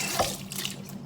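Tap water runs briefly at a kitchen sink as hands are washed while stew beef is being prepared, a short, soft splashing hiss that lasts about a second.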